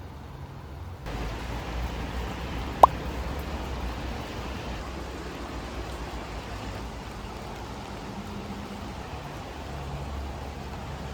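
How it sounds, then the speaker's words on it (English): Light rain patters steadily on a Kelty Discovery Basecamp 6 tent, an even soft hiss of drops on fabric with one sharp click near the start. "first I put this tent through about 3 hours of light rain"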